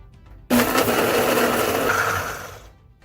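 Blender grinding salt, pineapple juice and white vinegar into a paste, starting abruptly and whirring loudly for about two seconds before winding down.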